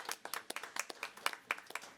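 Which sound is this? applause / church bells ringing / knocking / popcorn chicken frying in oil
applause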